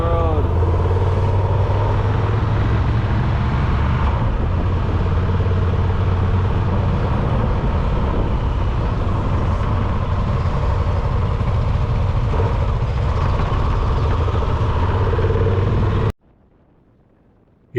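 A car cruises along a road with a steady low engine drone and road rumble lasting many seconds, then cuts off abruptly into near silence at the end.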